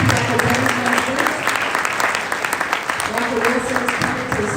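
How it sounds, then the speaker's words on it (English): Audience applause for pediatric dentistry residents at a college of dentistry opening ceremony, steady dense clapping filling the room throughout with voices mixed in. "give them a round of applause."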